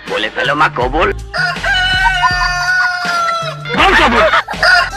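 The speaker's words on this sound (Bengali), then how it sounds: "তো এই রাউন্ডে যার মুরগির আওয়াজ সবচেয়ে বেশি হবে সেই প্রতিযোগিতা উইন হবে।" A cartoon chicken contest, with loud close clucking broken by a long drawn-out rooster crow in the middle, followed by more excited clucking at the end.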